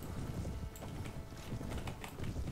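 Horses gallop in a medieval battle in the video game Anno Domini 1257, with rapid, continuous hoofbeat clatter at moderate volume and no talk over it.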